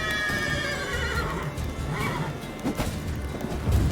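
Horse neighing in The Witcher 3, a loud whinny over busy game sounds with hoof clatter and a crash near the end.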